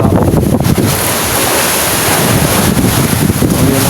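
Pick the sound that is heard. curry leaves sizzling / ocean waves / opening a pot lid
ocean waves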